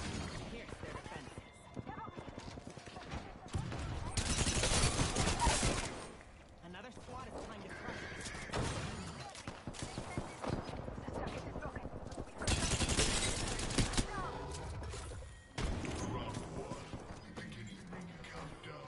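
Gunfire in a match of the battle royale shooter Apex Legends comes in two loud bursts of shots separated by quieter stretches of game ambience.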